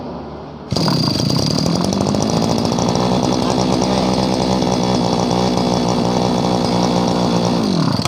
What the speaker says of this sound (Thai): เดี๋ยวมาฟังเสียงดูนะครับเจ้า S26 จะเป็นแบบไหนอ่า